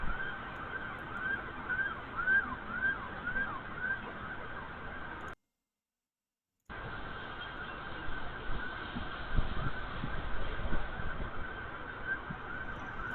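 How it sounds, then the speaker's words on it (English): Air raid sirens sound across Tel Aviv, Israel, as a steady, thin tone over a dense, band-limited wash of background noise. The audio cuts out completely for about a second partway through. "Sounds like a majority of those sirens are coming from the Tel Aviv Central cam"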